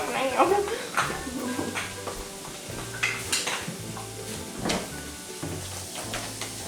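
Bacon and hash browns fry in a pan with a soft, steady sizzle that sits under family chatter, broken by scraping, stirring and clinking utensil sounds.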